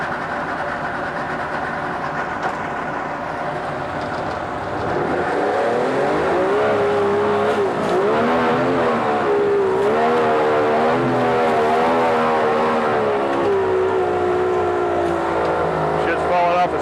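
1998 Yamaha 90hp two-stroke outboard motor warming up in a test tank, a steady close drone that grows louder and rougher partway through, with someone talking over it.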